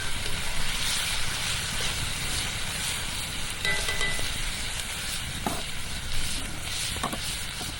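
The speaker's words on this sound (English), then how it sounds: "Going to stir that together." Ground beef and canned pork and beans being stirred together in a sizzling pan for cowboy stew, a steady broadband fry with scraping spoon strokes and occasional clinks, close and continuous, no talking.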